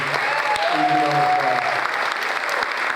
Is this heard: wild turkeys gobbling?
no